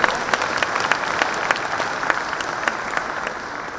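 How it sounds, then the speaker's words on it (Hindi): Audience at a business conclave breaking into loud, dense applause, many hands clapping continuously with a few sharper individual claps standing out, fading slightly toward the end. "सब लोग जोरदार तालियां बजाएं"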